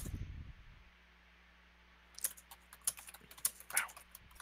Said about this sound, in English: your mechanical keyboard is very loud